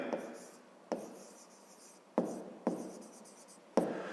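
Pen writing on paper during a fifth-grade maths exercise, five distinct strokes each starting sharply and scratching off, close and quiet.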